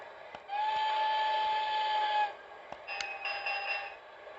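A Hornby G scale Harry Potter Hogwarts Express model locomotive plays its electronic whistle effects: a long steady tonal whistle, a pause with a click, then a shorter warbling whistle, clear and fairly quiet indoors.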